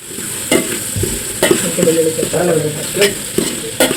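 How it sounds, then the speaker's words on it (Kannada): Onions frying in a pan for chicken sambar make a loud, close sizzle, with repeated scraping stirs and ladle knocks against the pan. "ಕೆಂಪಕ್ಕಾಗವರೆಗೂ ಈರುಳ್ಳಿನ ಫ್ರೈ ಮಾಡ್ಕೊಬೇಕು"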